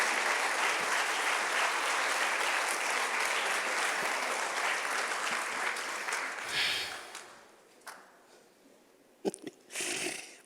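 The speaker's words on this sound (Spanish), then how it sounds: "Denle una ofrenda de palmas al Rey de Reyes" A church congregation applauds in a warm, dense burst of clapping that holds steady, then thins out and fades into scattered claps and rustling near the end.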